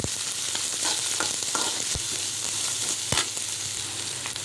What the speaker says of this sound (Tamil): அதையும் நல்லா வதக்கி வச்சுக்கலாம்